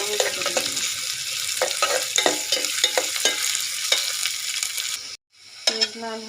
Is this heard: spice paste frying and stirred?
yes